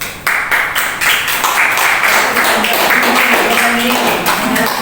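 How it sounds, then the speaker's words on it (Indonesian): A church congregation claps at a praise and worship service, steady dense clapping lasting throughout, close and loud. "Ya kita beri tepuk tangan juga mudah."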